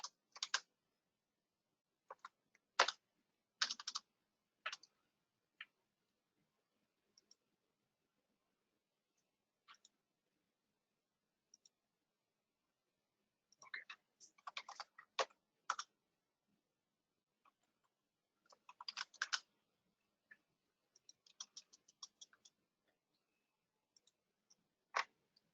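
Quiet bursts of typing on a computer keyboard while entering Python code, irregular clusters of rapid key clicks separated by pauses, close but soft with no talking.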